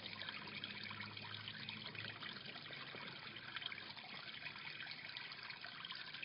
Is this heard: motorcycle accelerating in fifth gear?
no